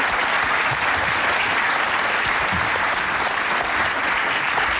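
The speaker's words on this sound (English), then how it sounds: "Round of applause." Steady, dense applause from a crowd at a demonstration and judging event, loud and continuous throughout without a break.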